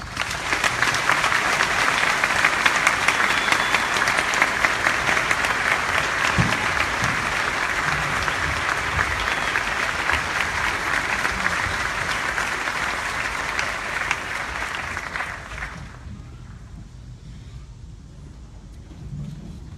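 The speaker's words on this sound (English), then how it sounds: "please join us in giving these fine soldiers and civilians a round of applause" Sustained, loud audience applause fills about fifteen seconds at a military graduation for soldiers and civilians of 1st Battalion, 19th Infantry Regiment in Columbus, Georgia, then drops off to a quieter room tone.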